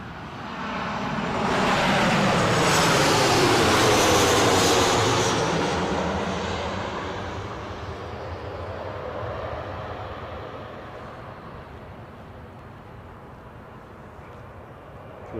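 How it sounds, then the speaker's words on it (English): A fixed-wing airplane passes at Newcastle airport, its engine roar swelling to a broad, loud peak, then slowly fading as it moves off into the distance. "we've got a plane"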